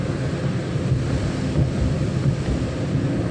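Steady roar of wind blowing during rain on a forest road toward Gavi and Kumily, a continuous broadband rush with no pauses and no voices.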